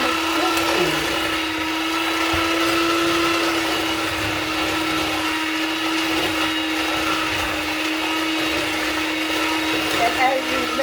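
Electric mixer beating butter cookie dough, a steady loud motor whine with a constant hum running unbroken throughout, no talk.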